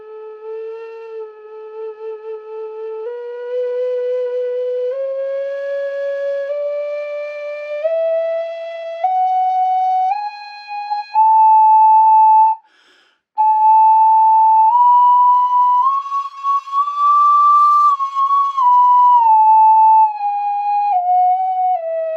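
A wooden ocarina pitched in A4 plays sustained single notes that step steadily upward in pitch, broken by one brief pause, then falls back down. It sounds clear and pure-toned, with no other sound.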